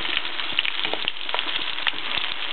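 Coconut-battered oysters fry in hot oil with a steady, bright sizzle and scattered small pops, close and continuous throughout, with no voices.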